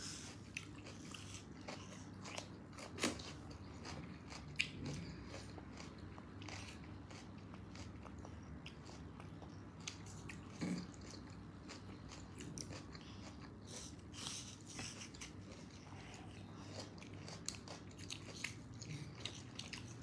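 A toddler bites and chews an apple, producing faint, close, irregular crunches and wet chewing clicks against a quiet room hum.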